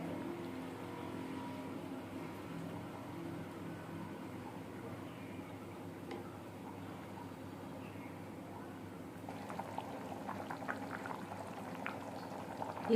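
Andhra-style pandugappa fish curry boils under a lid in a small pot, a steady low bubbling and simmer that holds for the whole stretch, with faint light clicks and rattles near the end.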